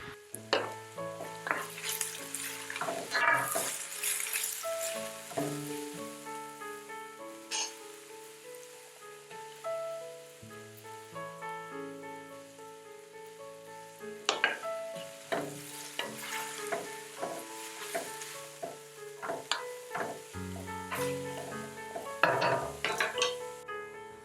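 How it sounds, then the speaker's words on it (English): Garlic fries in a pan for a vegan Trinidad dhal and bhaji, with soft sizzling and frequent scraping and clinking stirs near the microphone, over a steady tonal background and with no talk. "Next, we'll be adding a generous amount of garlic."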